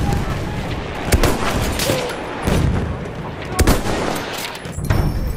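Battle gunfire in the video game Battlefield 1 on the St. Quentin Scar map, dense overlapping bursts and sharp cracks with rumbling explosions, loud and continuous amid shouted voices.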